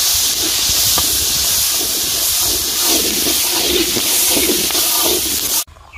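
Peeled onions drop into hot sunflower oil in a village kitchen, raising a loud, steady hiss with crackling bursts that runs continuously and then cuts off abruptly near the end.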